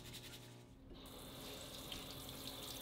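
Water runs steadily from a tap to fill a bath, a soft, continuous hiss and splash that grows slightly fuller after the first second, quiet and alone.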